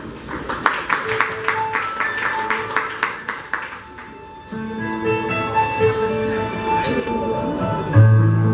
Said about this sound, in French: maman doit applaudir, s'il vous plaît